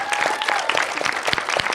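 An audience applauds a panel at the close of a festival session on artificial intelligence, brisk clapping with some individual claps standing out, short and fairly close.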